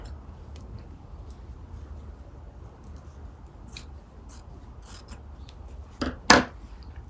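Scissors cut quilt fabric for a log cabin quilt block, heard as a few soft snips near the end after a quiet stretch of faint handling and rustling.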